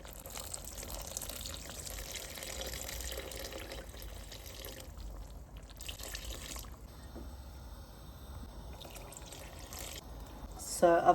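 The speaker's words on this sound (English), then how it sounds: "So I've added 700 ml water, and we'll let that cook now" About 700 ml of water is poured into a pan of chicken and mushroom curry, a faint, steady rushing stream that carries on for several seconds and ends with a louder splash.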